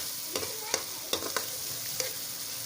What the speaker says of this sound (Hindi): पनीर भी हमारा इसमें तकरीबन फ्राई हो गया और चिकन भी फ्राई हो गया